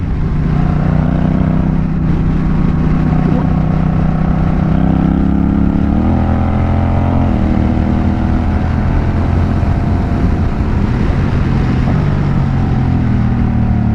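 A Honda Rebel 1100 motorcycle drones loudly and steadily at close range, its engine note stepping down and back up through several gear changes, including a downshift to fourth and a short shift, with wind rush underneath.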